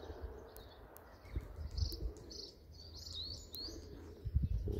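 Pigeons being flown outdoors give faint, scattered chirps and soft calls at a distance, with light low rustling underneath.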